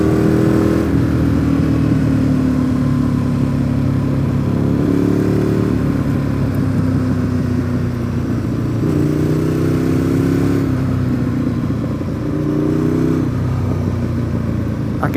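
A Ducati Monster motorcycle rides along at steady speed, its engine droning loud and close with wind noise, pitch rising and falling through several gear changes and throttle shifts.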